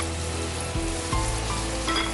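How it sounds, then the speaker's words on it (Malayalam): Three medium onions frying in hot oil in a pan, a steady close sizzle with a brief stirring scrape around the middle, no voices. "എണ്ണ ചൂടായി തുടങ്ങി, പിന്നെ ഉള്ളി"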